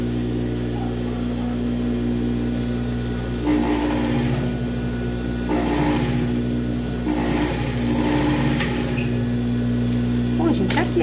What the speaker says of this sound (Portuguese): fui lá, passei meu overlock